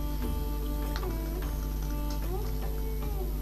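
A domestic sewing machine top-stitches hijab fabric with a steady mechanical whir and soft rhythmic ticking of the needle, running continuously at close range without pause.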